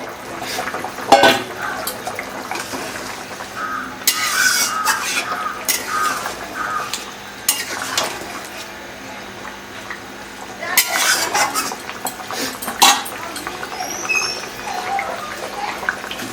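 Fried eggs and new potatoes stirred in a pan for an egg curry, the utensil scraping and clinking against the pan in irregular bursts over a faint sizzle, close and fairly loud.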